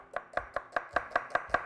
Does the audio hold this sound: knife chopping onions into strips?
yes